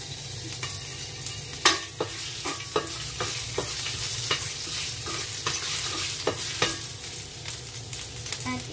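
Ginger frying in hot oil in a pan, a steady close sizzle broken by sharp clacks and scrapes of a utensil stirring at irregular intervals.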